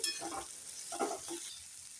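Spice masala fries in a pan before wild greens are added, giving a soft continuous sizzle with a few brief stirring scrapes, close and moderately quiet.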